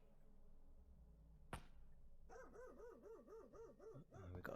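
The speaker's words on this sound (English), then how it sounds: "We've got a dog barking now." A dog barks repeatedly at night in a Whitechapel street near Mitre Square, a sharp clap sounding first, then a run of rhythmic, wavering barks and yelps, moderately distant over quiet urban background hum.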